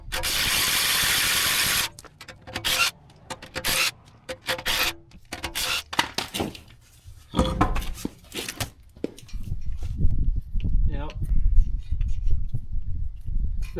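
A ratchet works on a Toyota Tundra wheel with close, repeated clicking and rasping strokes in irregular bursts, separated by brief pauses and mechanical knocks, and a heavier low rumble toward the end.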